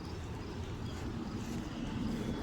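Steady broadband whooshing drone with a low rumble from electric fans, one in a window, continuous and even throughout, with no voices.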